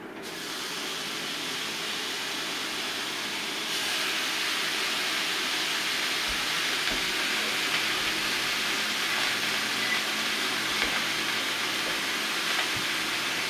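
Steak sizzling in a hot cast iron pan on a burner, a steady loud broadband hiss that swells slightly after a few seconds and holds on without a break, close up.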